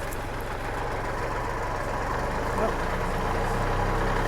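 A tractor engine runs steady and loud, driving a new RuggedMade 3-point hitch log splitter, a continuous low rumble with a slight swell in revs partway through while voices talk over it.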